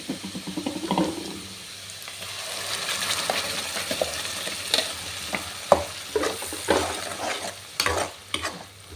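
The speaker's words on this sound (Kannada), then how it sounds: "ಮಸಾಲ ಪಾಡ್ದ ಫ್ರೈ ಮಲ್ತಾಂಡು" Masala frying and being stirred in a pan for a Tulu home-style gravy, a steady sizzle broken by sharp clinks and scrapes of a spoon against the pan, close and with no talking.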